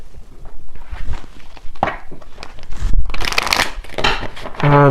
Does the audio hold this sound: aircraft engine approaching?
no